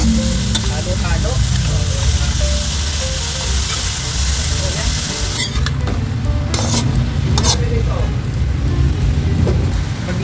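Carrots, cabbage and celery are stir-fried for pancit bihon guisado, producing a loud continuous sizzle with clattering utensil scrapes and pan knocks, under occasional speech.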